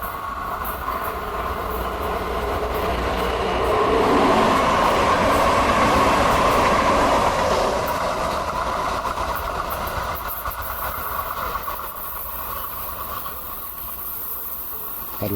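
A light rail train passes near Robert E. Lee Park on the former Greenspring branch line. Its rumble swells to a peak mid-clip and then slowly fades, and no talk is heard over it.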